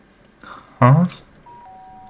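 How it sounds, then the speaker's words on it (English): A doorbell in the Danganronpa video game chimes once, a loud, clear two-tone ring that stands out sharply against a quiet room background. "The sharp sound of the doorbell pierced my sleepy haze and pulled me back to the real world."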